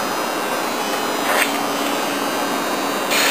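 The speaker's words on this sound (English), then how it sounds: "This is a shot of the hydraulic unit for the machine." A hydraulic unit on a surface grinding machine hums steadily nearby, a constant broadband motor-and-pump drone with a slight swell partway through and a brighter surge at the end.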